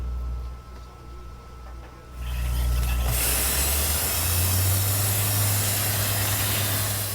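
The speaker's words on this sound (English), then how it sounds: "FIU researchers use a hose to spray the ultra-high performance concrete where it's needed." A hose sprays ultra-high performance concrete. After a quieter start, a steady, loud rushing hiss sets in and holds over a low machine drone.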